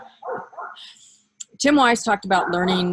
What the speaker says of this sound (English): I apologize for the barking dog.